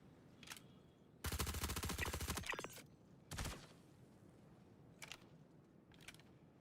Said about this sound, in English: Who the hell's shooting at me, dudes?